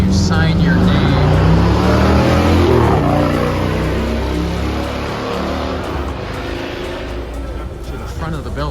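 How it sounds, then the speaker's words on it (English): Loud motorcycle roaring nearby along the Tail of the Dragon, a throaty engine drone that swells early then slowly fades as it moves off, heard with people talking over it. "Sorry for the loud motorcycle."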